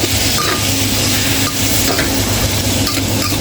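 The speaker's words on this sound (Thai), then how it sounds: "เราก็จะใส่ผักที่เรามีลงไปจ้าปาปริก้าแครอทแล้วก็หอมหัวใหญ่ กระล่ ผัดผัดให้ผักสุกนะจ้า" Paprika, carrot and onion stir-fried in a pan, a steady loud sizzle with scraping stirs throughout, no voices.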